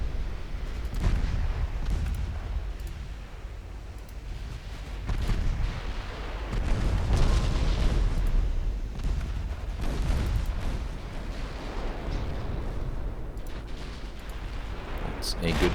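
Battlecruiser guns fire in a naval battle in Ultimate Admiral Dreadnoughts, heavy booming salvos rolling through a dense, continuous low rumble of distant gunfire over about sixteen seconds.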